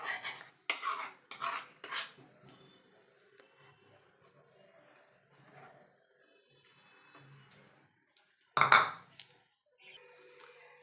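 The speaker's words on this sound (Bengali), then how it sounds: "এবার আমি এটা ঢেলে দেবো দুধের মধ্যে।" Date palm jaggery mixture poured into milk in a pot, with a few clattering utensil knocks at the start, a long quiet stretch of faint pouring, then a sharp metallic clank near the end.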